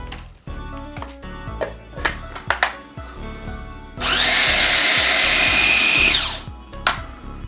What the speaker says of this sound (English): So I've got my food processor here.